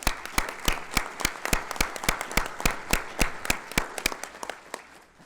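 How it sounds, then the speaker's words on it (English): Attendees at a Texas Board of Criminal Justice board meeting applaud, a sparse group giving distinct, sharp claps in a loose rhythm that gradually thins out and fades toward the end. "with a round of applause"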